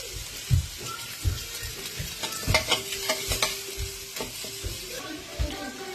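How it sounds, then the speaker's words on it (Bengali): Chopped onion frying in a pan under a constant crackling sizzle, with regular dull knocks and scrapes as a spatula stirs it, close and fairly loud. "একটু নেড়ে আমাদের পেঁয়াজ কুচিটা দিয়ে দেবো।"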